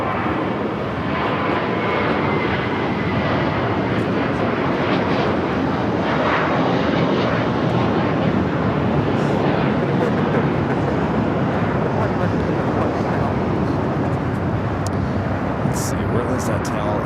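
A jet airliner roars through a takeoff at Los Angeles International Airport, its engine noise loud and sustained across the whole stretch as a broad steady rumble, with a voice talking faintly underneath.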